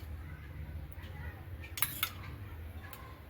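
Cream is stirred into a cashew curry gravy in a pan; a spoon scrapes and clinks against the metal in a few sharp taps over a low steady hum, quiet and close.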